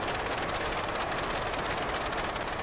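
Rotary engine of a wooden Blériot XI monoplane in Microsoft Flight Simulator, a loud, dense, rapid rattling drone heard close from the cockpit, steady throughout with no talking.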